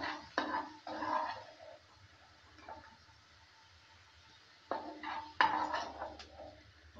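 Fried potatoes lifted out of a pan for a fish curry with potato and eggplant, with sharp metal scrapes and clinks of a utensil against the pan in a few bursts amid quiet gaps.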